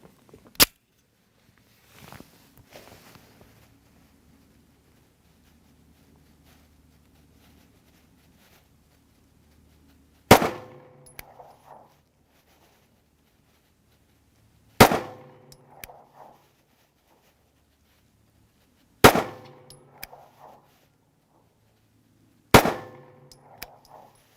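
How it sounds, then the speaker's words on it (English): A SIG Sauer P320 Nitron pistol fires five sharp, loud shots using the factory barrel, each shot separated by several seconds of quiet, with short echoing decays after each report. "So there's our first 5 shots"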